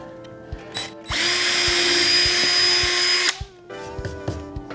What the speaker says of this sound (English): We're gonna pre-drill the top piece with a bit that's actually wider than the threads of the screw.